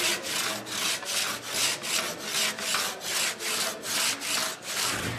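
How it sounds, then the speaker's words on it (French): A hand saw cuts through wood in steady back-and-forth strokes, about a dozen rhythmic rasping passes, close and clear with no talking. "Tu prends la scie, là, et essaye de couper."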